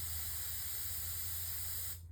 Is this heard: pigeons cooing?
no